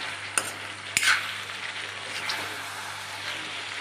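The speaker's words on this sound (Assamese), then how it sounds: "বিলাহী দিয়াৰ পিছতো আকৌ ভাজি আছোঁ" Mutton and tomatoes fry in a pan with a steady sizzle, broken by a couple of sharp scrapes from a stirring utensil.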